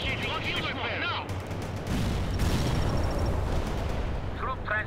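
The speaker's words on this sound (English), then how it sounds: "requesting artillery strike on coordinates" Artillery strikes and gunfire in the World in Conflict video game: dense, sustained rumbling blasts and crackling shots fill the whole stretch, with game voices talking over the combat.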